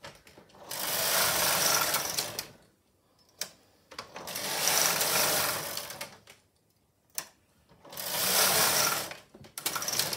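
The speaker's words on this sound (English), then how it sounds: "and knit 10 rows." A Silver Reed SK155 chunky knitting machine knits rows as its carriage sweeps back and forth in three long rattling passes. Sharp clicks and short pauses fall between the passes.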